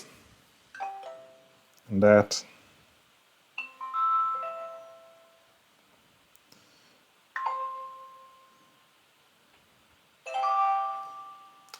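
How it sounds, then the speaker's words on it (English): Sonoff TX Ultimate smart wifi switch playing its chime sound effects: four short melodic electronic jingles spaced a few seconds apart, with a brief spoken phrase between the first two. "So these are the 5 sound effects."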